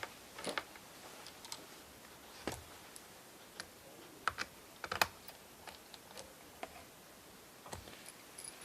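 Small screws being driven into an Acer Aspire 5552G laptop during a screen replacement: a sparse, irregular series of faint close-up clicks and ticks from a screwdriver against the plastic case, with no talking.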